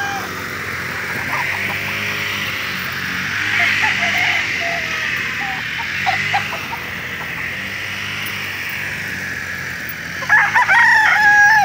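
A rooster crows loudly nearby on a gamefowl farm, with other chickens clucking around it and a steady background hum throughout.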